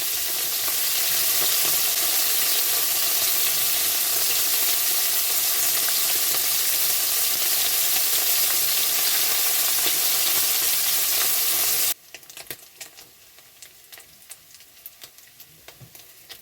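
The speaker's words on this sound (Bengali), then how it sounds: "মাছগুলো লাল লাল করে ভেজে নেবো" Small puti fish fry in hot oil with a loud, dense, steady sizzle that runs for about twelve seconds and then drops abruptly to faint crackling and a few ticks.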